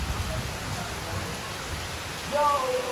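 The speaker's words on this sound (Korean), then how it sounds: "비가 와요. 주룩주룩" Heavy rain pours down during a trip around Da Nang, a steady, close, broadband hiss that rises slightly near the end, with no clear talking.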